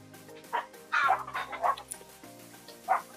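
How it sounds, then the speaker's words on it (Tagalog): Dog barks and chicken calls around a Filipino home, a few short bursts spaced across the moment, moderately close with quiet gaps between them. "May manok po, may aso. Yun lang po yung maririnig nyo rito."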